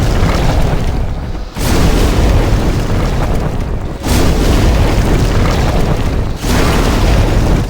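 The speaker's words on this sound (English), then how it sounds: "Just keep pelting them with fire bombs" Fire bombs burst in Demon's Souls, a dense roaring blast of fire sustained across most of the stretch, with three brief dips between loud explosive surges.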